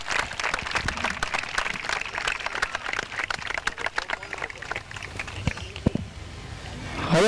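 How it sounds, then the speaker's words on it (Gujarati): An outdoor crowd at a night cricket tournament prize ceremony applauds a batsman, dense scattered clapping that is steady and moderately loud, then thins into a few isolated claps before fading. "તાળી પાડી આપણે ઉત્સાહ વધારીશું આ બેટ્સમેનનો."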